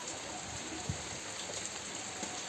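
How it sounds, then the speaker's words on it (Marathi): Rain falls steadily outside a leaking tin-sheet-roofed house as an even, continuous hiss, with a few faint drips and taps on nearby surfaces. "पाऊस येतोय बाहेर बघा"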